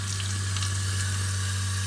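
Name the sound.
water running from tap fed by EcoTemp L5 water heater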